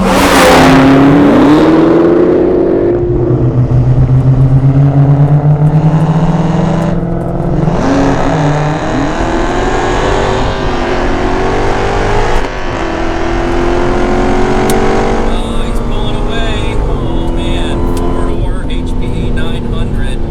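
Dodge Demon and a 900 HP Hellcat Charger launching in a street race on an unprepped surface, loud sustained engine roar with rising revs and gear changes, a voice talking over it.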